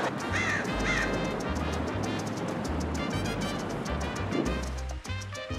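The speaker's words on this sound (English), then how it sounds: "Oh wow, this bird is going crazy." A bird calls loudly and repeatedly from overhead, harsh cawing notes over a constant broadband background roar.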